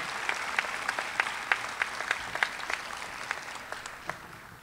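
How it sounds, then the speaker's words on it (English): An audience at a Columbia Southern University commencement ceremony applauds, a moderate patter of claps with a few sharper individual claps standing out, tapering slightly toward the end. "Let's give her a round of applause."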